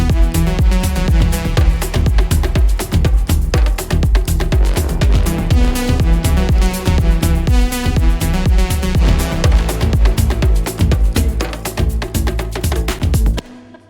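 Full afro house track with all loops and drums layered together, a steady four-on-the-floor kick under dense percussion and synth parts, loud and continuous with no talking.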